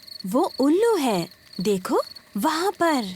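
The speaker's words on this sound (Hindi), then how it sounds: "ये कीड़ों की चींची आवाज है।" Cartoon insects chirp at night in an animated Peppa Pig scene, a thin, steady chirping that runs underneath lively character voices talking over most of the clip.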